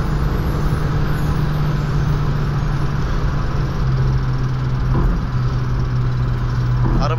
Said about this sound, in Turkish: 150 ile giderken de arabanın içindeki ses böyle işte.